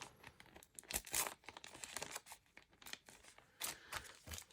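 Scissors snip and crinkle through the hanging part of a thrifted item, a string of close, irregular cuts and rustles with short pauses between them.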